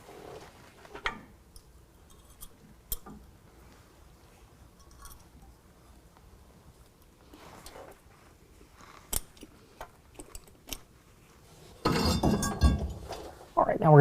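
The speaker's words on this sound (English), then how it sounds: "we're going to go ahead and pull this off using a 21 millimeter" Metal clinks and clatter as brake caliper parts come off a 2011 Ford F-250 with a 21 millimeter socket, scattered sharp taps over quiet stretches, then a louder burst of rattling tool and metal handling near the end.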